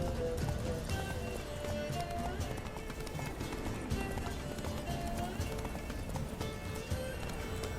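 Horse galloping in the video game The Witcher 3: Wild Hunt, a continuous fast clip-clop of hooves under game music and ambience, with a possible whinny.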